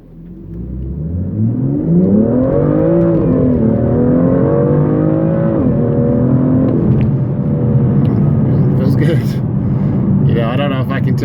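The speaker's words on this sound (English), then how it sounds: "let's give it a good acceleration here." A BMW M2 with a K&N air filter revs hard as it accelerates, its engine pitch sweeping upward in several rising surges. It stays loud and close throughout.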